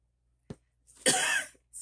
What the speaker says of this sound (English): I don't know that I'm ever going to get over this cough.